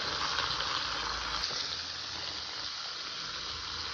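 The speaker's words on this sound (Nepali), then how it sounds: "अब यसलाई यतिकै एकछिन फ्राई हुन दिउँ है त" Raga sukuti, dried goat meat pickle, frying in a pan gives a steady, close sizzle with a bright continuous hiss and a faint momentary pop partway through.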